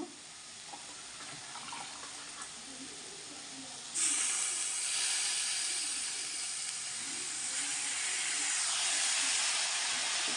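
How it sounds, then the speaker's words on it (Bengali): Water poured into a hot pan of melting jaggery sets off a sudden loud, steady steam hiss that lasts several seconds after a quieter opening. "হালকা একটু জল দিয়ে দিলাম"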